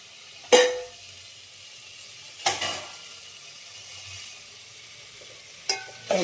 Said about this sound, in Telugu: టమాటాలు అయితే బాగా వేగాల